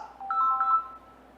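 A short electronic telephone ring tone for an incoming call to a prayer line: a quick run of bright beeping notes, clear but fairly quiet, with no voices.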